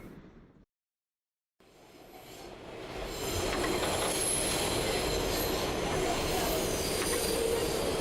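Inside a subway car in the horror game Nun with a Gun: after a brief silence, the low rumble of the train swells into a steady roar with squealing wheels and rail clatter, loud and continuous.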